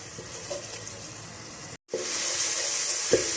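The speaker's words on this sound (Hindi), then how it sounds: "थोड़ी देर मसालों को भूनेंगे।" Spices frying in a pan: a steady, bright sizzling hiss with a brief cut near the middle, then the sizzle resumes slightly louder, with a couple of soft utensil taps.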